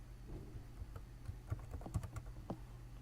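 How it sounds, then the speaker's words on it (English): Typing on a computer keyboard while setting up a WordPress portfolio website, with a quick run of light, irregular key clicks close by, no talk. "you're going to type in your website name"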